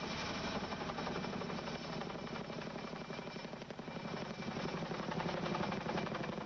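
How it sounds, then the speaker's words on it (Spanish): A US Army helicopter's rotor thumps in a steady rapid chop with engine whine underneath, sustained and fairly loud throughout with no voices. "Un helicóptero del ejército de Estados Unidos fue enviado para transportar los restos."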